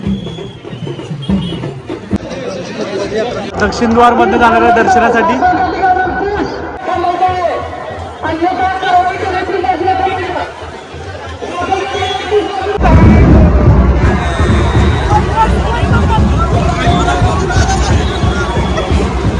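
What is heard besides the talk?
huge crowd of devotees at Jyotiba hill temple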